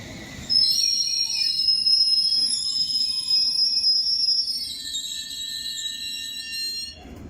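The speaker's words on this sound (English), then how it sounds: "Off goes now the Metropolitan line service to Watford" A Metropolitan line semi-fast train to Watford pulls out of Wembley Park station. Sustained high whining and squealing tones ride over a low rumble, shifting in pitch as it departs.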